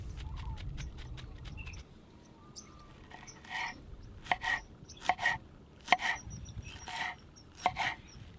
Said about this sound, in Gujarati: થોડોક જે નીચે મૂળિયાનો ભાગ છે હું કાપી નાખીશ અને પછી આવી રીતે એને મીડિયમ સમારી લઈશ.